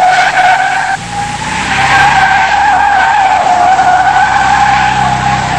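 Tyres on a 1982 Skoda car squeal loudly and continuously during a hard braking test, a sustained close screech with no voices over it.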